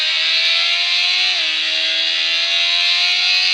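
A motorbike engine in the Traffic Rider video game drones loud and steady at high speed, its pitch dipping briefly midway before holding a constant whine.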